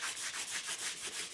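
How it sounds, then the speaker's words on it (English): Lathe chuck jaws from a Sheldon 4-jaw chuck scrubbed with a Scotch-Brite pad and WD-40, a close, rhythmic abrasive rubbing of quick back-and-forth strokes with no talk. "Just a little WD-40 and Scotch-Brite pad"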